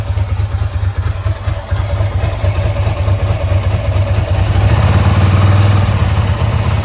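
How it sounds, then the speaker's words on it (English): A Ducati 907IE motorcycle engine idles loudly up close while cold, held at about 2000 rpm, a low, steady chugging throb that swells slightly toward the end. "I won't rev it too hard because it's cold. So we're at 2000 revs."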